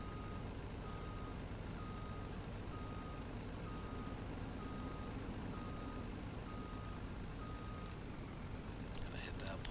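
A truck in Farming Simulator 19 reverses, its backup alarm giving a steady series of about eight evenly spaced beeps over a low, constant engine rumble, fairly quiet overall.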